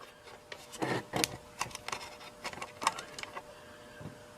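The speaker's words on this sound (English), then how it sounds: "Now I'll just take this wrench and loosen" Wrench turning and loosening a nut on an early 1970s Graymark 511 all-band radio, close and quiet, with a series of short scraping clicks and rubs.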